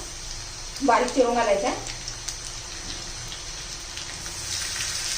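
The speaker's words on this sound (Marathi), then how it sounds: "जिरं मोहरी तडतडली का लसूण टाकूया" Cumin, mustard seeds and garlic crackling in hot oil for a spicy brinjal bharta, a steady sizzling hiss with scattered small pops after a brief spoken phrase.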